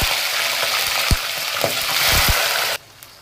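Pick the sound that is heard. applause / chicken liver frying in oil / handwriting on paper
chicken liver frying in oil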